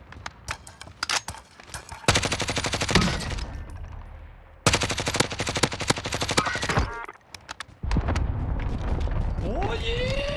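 Automatic gunfire in Call of Duty Warzone Pacific, long loud bursts of rapid shots with short pauses between them, and a player talking over the shooting.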